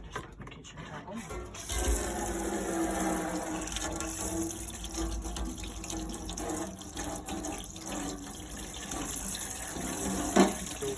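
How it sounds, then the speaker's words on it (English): Inside a Burstner Harmony T625 motorhome, the kitchen tap runs in a steady, close rush of water into the sink, holding an even level for several seconds. "just the kitchen tap on"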